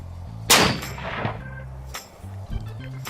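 A single sharp gunshot from a Seekins Precision 6.5 Creedmoor rifle during ammo testing at an outdoor range, loud and close, followed by a long rolling echo and steady low background rumble.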